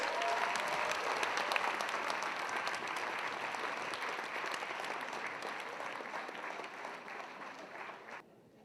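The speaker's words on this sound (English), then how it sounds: "let's give a big hand of applause to our 10 pillars" A banquet audience gives a big, steady round of applause for the 10 pillars at a 10th anniversary celebration, dense clapping filling the room for about eight seconds before cutting off abruptly.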